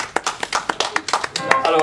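An audience at a French song show applauds a young performer, with brief, close, irregular clapping from several hands under a speaking voice.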